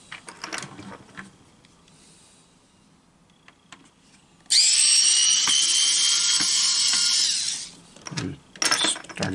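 A power screwdriver removes screws from the circuit board of a toy owl, letting out a loud, high, steady whir for about three seconds, then a shorter burst, with quiet handling clicks before and between.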